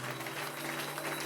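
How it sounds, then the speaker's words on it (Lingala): A church congregation claps for Jesus during a Sunday service, in steady dense applause that fills the room without a break and sounds loud and close. "Okoki kopeta oboko pona Yesu."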